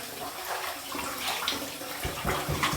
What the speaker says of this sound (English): I have a sink filled with some water, but I'm going to take some from the tap